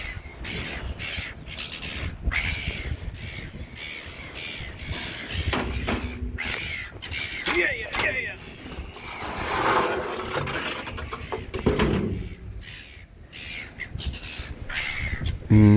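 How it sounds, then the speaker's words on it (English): Crows caw repeatedly and harshly nearby aboard a ship, a busy overlapping chorus of calls continuing throughout amid some background clatter. "getting attacked by the angry birds"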